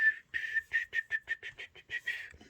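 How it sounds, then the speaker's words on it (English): A person whistles a quick run of short, bright notes in a steady rhythm, with a few longer tones near the end, close and clear with no talking. "my whistle is never been that great"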